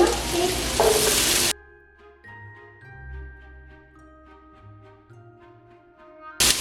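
Two kinds of bell pepper and chillies are stir-fried for shrimp noodles. A loud, hissing sizzle with stirring scrapes is cut off abruptly, followed by a few seconds of soft chiming tones, and then the sizzle bursts back briefly at the end.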